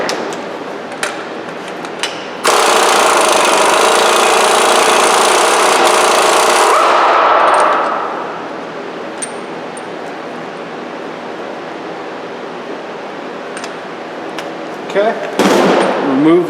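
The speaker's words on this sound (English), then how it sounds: "take that spindle nut off of there" A power tool breaks loose the 1.25-inch spindle nut on a Ford Focus wheel during a wheel bearing replacement, a loud continuous hammering rattle for about five seconds that then winds down, followed by quiet clinks of work.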